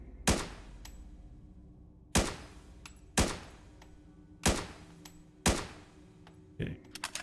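Single shots from a weapon set to semi-automatic in a PC action game called Tactful Apocalypse: five sharp, evenly spaced reports about a second apart, then a softer sixth, each with a short decay.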